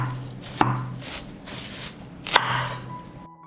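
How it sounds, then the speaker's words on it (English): A knife cuts a fresh watermelon into large pieces, landing two sharp, close chops on the board about two seconds apart, with quiet handling sounds in between. "I cut the watermelon into larger pieces."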